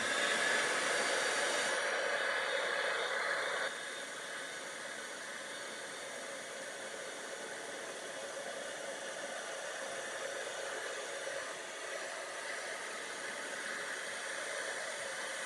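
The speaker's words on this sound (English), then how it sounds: "let me just get out the heat emboss, the heat gun." A heat gun blows steadily close by for heat embossing on a whimsical shaker card, a broad airy hiss that drops slightly in level after a few seconds and then holds even with no talking.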